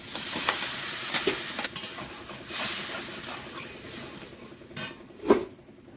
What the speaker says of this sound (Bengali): একটু ভাজা ভাজা হয়েছে এবার একটু এর মধ্যে জল দেবো